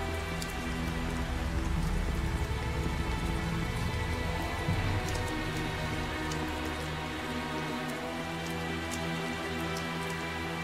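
Steady rain falls in the fantasy role-playing game Tales of Zestiria, a constant dense patter of drops on surfaces that stays even and moderately quiet for about ten seconds, with a low background hum and no talking.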